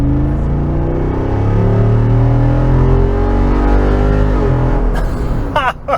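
A 2023 Jeep Wrangler Rubicon 392 with its 6.4-liter V8 and exhaust roars continuously, pitch climbing and falling through revs, loud and close, with a brief scrape-like burst near the end.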